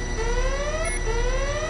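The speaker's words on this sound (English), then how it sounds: "And all the alarms are going." Alarms blaring in Deus Ex: repeated rising electronic siren sweeps, loud and continuous, layered over a steady low hum, with no talking.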